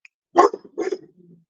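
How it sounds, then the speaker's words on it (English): Pet dog barking indoors, two sharp close barks about half a second apart followed by a softer trailing whine-like grumble, loud against an otherwise silent room. "That's my dog."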